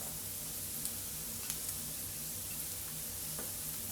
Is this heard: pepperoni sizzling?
yes